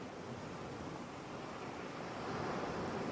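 Steady ocean surf washing onto a shore, a continuous broadband wash that swells slightly louder near the end, with no voices.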